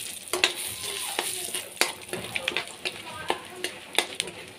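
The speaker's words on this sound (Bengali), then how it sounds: "দিয়ে দিচ্ছি একটা শুকনা লঙ্কা ছিঁড়ে দু টুকরো করে দিয়ে দিয়েছি, আর দুটা তেজপাতা ছোটো ছোটো" A dried red chili and bay leaves fry in hot oil with a constant crackling sizzle, broken by sharp spatula taps and scrapes against the pan, close up with no other sound.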